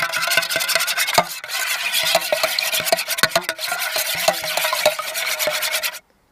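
An egg is whisked vigorously in a bowl at an outdoor camp. Rapid, steady rhythmic clicking and scraping continue for about six seconds, close and loud, with no voices, then stop abruptly.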